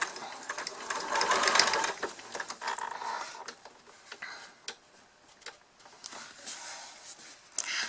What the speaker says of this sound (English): And then just back stitch over the elastic.